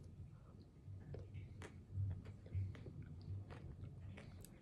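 Close, quiet bites and chewing of peanut butter chocolate ice cream with crunchy Rice Krispies, soft crunches and wet mouth sounds repeating over a few seconds with no talking.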